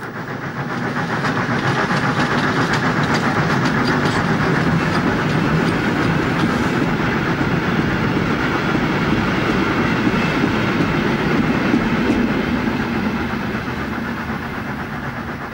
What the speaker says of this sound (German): Verabschieden wir uns von der P8 mit einer abendlichen Ausfahrt aus dem Bahnhof Hausach.